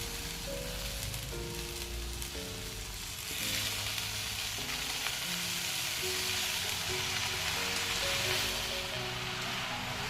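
Green leafy vegetables dropped into a hot pan, a steady rain-like sizzle and crackle of frying that swells slightly once the greens go in, with a background tone running underneath.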